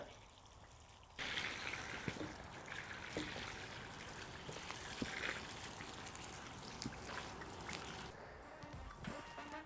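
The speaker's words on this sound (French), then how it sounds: "on branche le tuyau sur la vanne et puis on ouvre et hop ça se vide là-bas" Water gushes from a garden hose fitted to a valve in an organic vegetable garden. A rushing flow starts abruptly after a quiet moment, runs on steadily, and drops away near the end.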